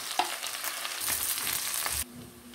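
Meat and onions sautéing in a pan for beef saute, a steady close sizzle with intermittent scraping stirs, the frying hiss cutting abruptly quieter near the end.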